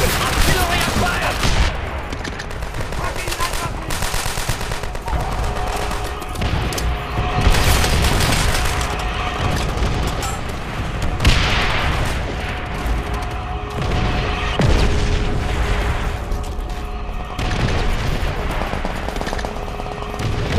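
Artillery fire in a World War II video game, a chaotic run of heavy booms and rapid gunfire bursts layered over one another, loud and continuous with scattered sharper blasts.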